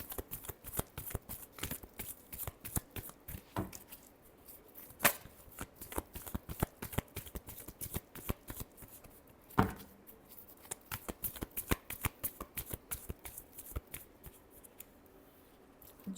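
A deck of tarot cards being shuffled by hand, with rapid, close, crisp riffling and flicking in quick bursts and a couple of louder slaps, no talking.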